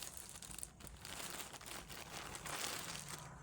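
A plastic cargo package is torn and pulled open up close, with dense crinkling and crumpling throughout at moderate volume.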